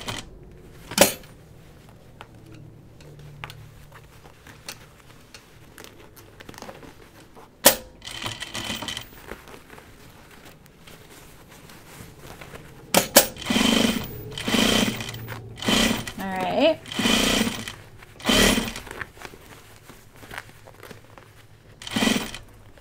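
A domestic sewing machine topstitching a fabric dopp kit, quiet at first with isolated clicks, then repeated short bursts of rapid mechanical stitching chatter close up, separated by pauses, no talk.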